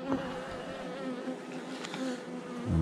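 Honeybees buzz around an open hive colony, a close, fluctuating insect drone with individual bees flying past, steady and moderately loud with no talk.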